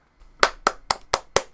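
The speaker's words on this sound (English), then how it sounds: "Round of applause" Five slow, evenly spaced hand claps from one person, close and crisp in a quiet room.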